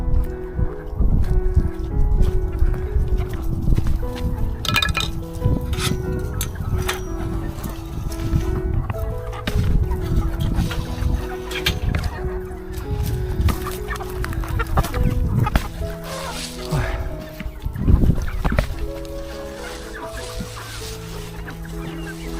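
Farm chickens clucking steadily while being fed a bucket of chopped vegetables, with a dense chorus of close, overlapping clucks and cackles throughout and a brief louder flurry near the end.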